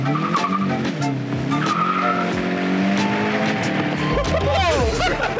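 A tuned, fast Volkswagen GTI accelerates hard with tire squeal and wheelspin, its loud engine note climbing through the gears before a final screech, with voices heard over it.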